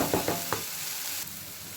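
Masala with red chilli powder sautés in a pan for a peas pasta, three quick scraping stirs followed by a continuous close sizzle.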